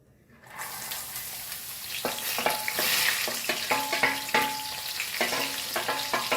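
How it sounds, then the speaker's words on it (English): French beans crisp-frying in a pan for Goan fried rice: after a brief silence, a loud sizzle rises and holds, broken by repeated clinks and scrapes of stirring. "We'll fry our French bean."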